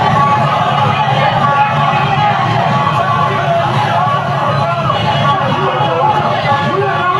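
A crowd gathered out in the street, a dense, steady murmur of many voices with scattered shouts and cheers, close and continuous throughout.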